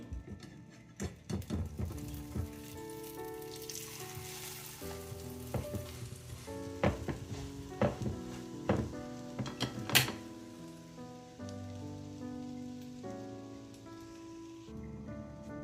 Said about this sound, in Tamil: இப்போ பொரிஞ்சு வரட்டும், வெயிட் பண்ணுவோம்.